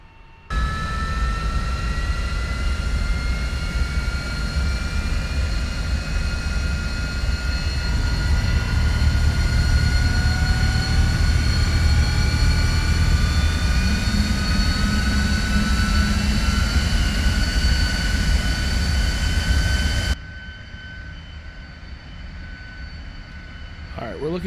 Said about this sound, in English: There we go. Engine is starting.